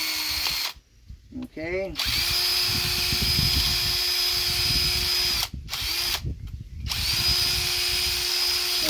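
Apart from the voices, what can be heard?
power drill drilling holes in wood for a lamp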